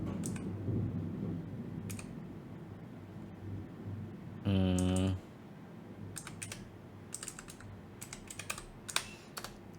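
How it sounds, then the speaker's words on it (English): Computer keyboard typing in bursts of quick, light clicks, close and fairly quiet over a low background hum, with a brief loud buzzing tone partway through. "I'm like typing"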